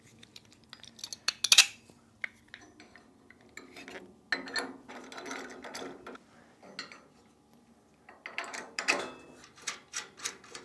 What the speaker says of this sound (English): now we're going to tighten down. For this part, it does help having another wrench handy